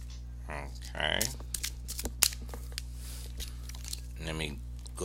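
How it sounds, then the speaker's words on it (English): Quick papery riffles and soft slaps of a tarot card deck being shuffled, close by, in a few short bursts with pauses between. "Let me go ahead and give these one more shuffle to see."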